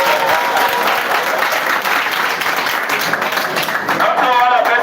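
Crowd at a World Babies Day commemoration in Sierra Leone applauds in a sustained, dense wash of clapping, fairly loud and continuous, with voices mixed in.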